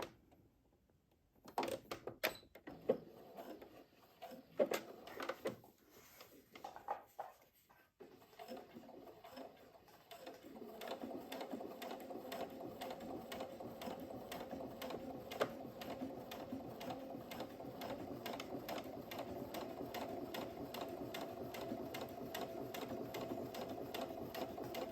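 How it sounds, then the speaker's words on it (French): A sewing machine stitches a seam on a zipper pouch about 1 mm from the edges at a 3 mm stitch length, starting with a few short bursts and handling clatter before settling into a steady, continuous close-up hum of rapid stitching. "je vais faire une couture ici, à peu près à 1 mm des bords"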